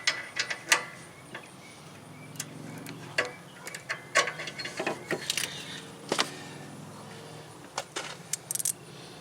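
A ratchet and socket work at the upstream O2 sensor of a Pontiac Vibe, with irregular metallic clicks, ratcheting and clanks scattered over a quiet background.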